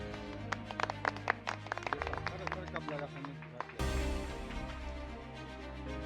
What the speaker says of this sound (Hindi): जनता ने तालियों के साथ आपकी बात का अनुमोदन किया है।